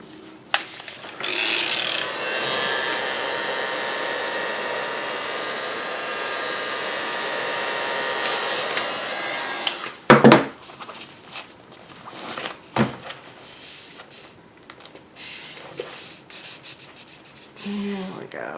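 A heat tool blows hot air over a journal background paper to flatten it, a loud steady whooshing roar for about eight seconds that cuts off abruptly, followed by quieter handling noises and taps.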